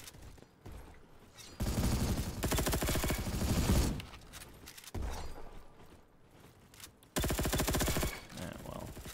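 Bursts of automatic gunfire in a video game, shooting through a guardrail, come in loud sustained volleys separated by quieter gaps, close and dense, with no talking during the shots.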